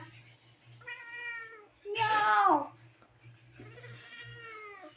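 A cat meows three times nearby, the middle meow louder and more drawn out than the others.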